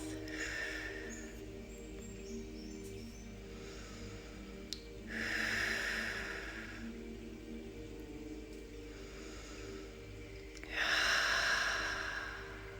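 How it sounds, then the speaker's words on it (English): Slow deep breathing during a gentle floor workout, two long, soft inhale-exhale cycles with clear pauses between them, close and quiet over a steady low background hum. "Nice big inhale, nice big exhale, floating those legs down."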